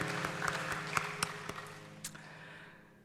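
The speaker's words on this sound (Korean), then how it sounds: "우리 하나님 앞에 감사의 박수 드리겠습니다" A congregation at a Korean Friday all-night prayer service claps in thanks; loose, scattered claps of moderate volume with a few sharper hits, thinning out and fading toward the end.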